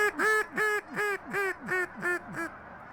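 Sure-Shot game call blown in a rhythmic series of about eight loud, nasal honking quacks, evenly spaced and close, imitating ducks and geese.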